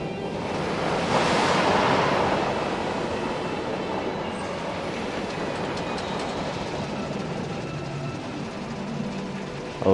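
Water splashes on a coaster ride in Planet Coaster 2, a loud rushing surge early on that settles into a steady washing roar with faint rattling of the cars.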